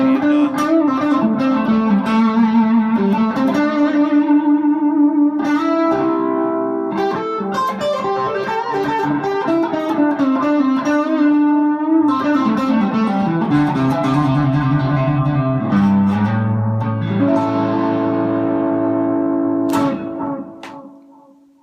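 A custom-built Telecaster electric guitar, distorted, plays a continuous run of chords and melodic lines with effects, loud and steady throughout before fading at the end.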